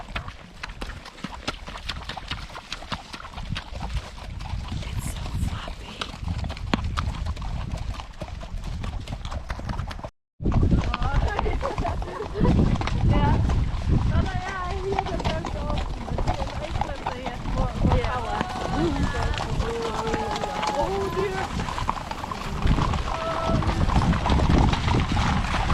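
Hooves clip-clop steadily as a group of horses walks along a trail ride, with a continuous rhythmic clatter of footfalls. People talk throughout, and a brief dropout cuts the sound midway.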